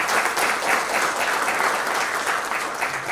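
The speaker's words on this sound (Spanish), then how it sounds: "también pido un aplauso para el director" An audience at a book presentation during a book fair claps for the director of culture, an even, continuous ripple of applause heard at moderate level from start to finish, with no one speaking over it.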